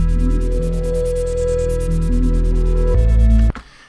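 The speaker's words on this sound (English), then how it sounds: "When we cut it off, it sounds like a wobble." A deep synth bass wobbles in a steady pulsing rhythm, its pitch stepping between notes, loud and alone before cutting off abruptly near the end.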